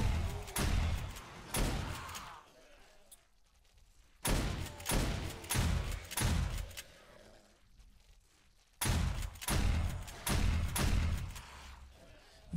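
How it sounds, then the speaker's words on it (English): A shotgun turret in 7 Days to Die Alpha 16 fires on basic zombies in three loud clusters of rapid blasts and thuds, separated by short quiet gaps. "You see the shotgun turret seems to be doing a lot of body hits"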